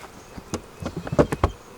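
Honey bees buzz close by at a backyard beehive in hot, humid weather, several brief rising buzzes passing in quick irregular succession over a quiet background.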